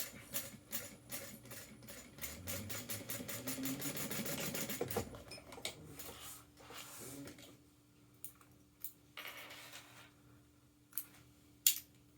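A sewing machine stitches across a seam allowance on a sewn tag-along project in a fast, even rattle for about five seconds, followed by scattered clicks and fabric handling.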